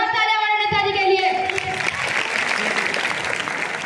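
An audience at an inter-college event in Rajupur bursts into loud applause for a politician figure, starting over a brief sustained tone and spreading into dense, steady clapping that carries to the end.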